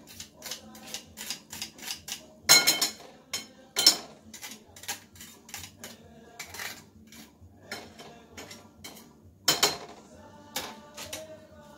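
A metal grater is scraped to clear off grated cheese for eggplant parmigiana, giving a series of sharp clinks and scrapes in irregular bursts, a few louder strokes standing out against quiet gaps.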